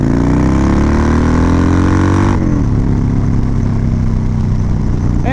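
A Harley-Davidson FXDWG Dyna Wide Glide V-twin engine running loud and close, a deep throbbing rumble that revs up and then drops back to a lumpy idle.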